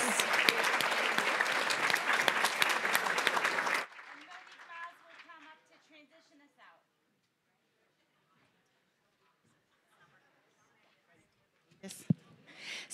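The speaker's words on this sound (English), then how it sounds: "Can we get one more round of applause for our new partners?" Conference plenary audience applauding new partners, loud dense clapping for about four seconds that quickly thins and fades into near silence, followed near the end by a brief burst of noise and some speech.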